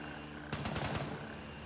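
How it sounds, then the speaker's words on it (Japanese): Distant gunfire in the military shooter game Gray Zone Warfare: a quick burst of about five faint shots in rapid succession over a quiet ambient background. "なんかもう銃声がしてますね。"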